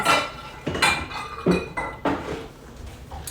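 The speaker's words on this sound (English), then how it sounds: "I'm gonna go dish out 32 ounces of the pinto beans" Cooked pinto beans are scooped out of a slow cooker, with a series of close, clattering knocks and scrapes of a utensil against the pot and dishes, about six distinct hits in quick succession, with no talk.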